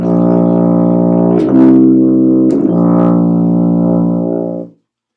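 A tuba sustains a steady, brassy low note, shifts to a second held note with two brief valve clicks, then releases, a rich, close and loud tone with no talking.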